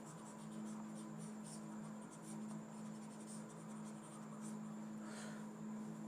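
Chalk or marker writing on a board during a Class 10 trigonometry lesson, with faint, scratchy strokes over a steady electrical hum and room noise.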